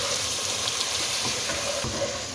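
Potatoes and sliced capsicum fry in a pan with a soft, continuous hiss and faint crackle, with a brief stir near the end and no voices.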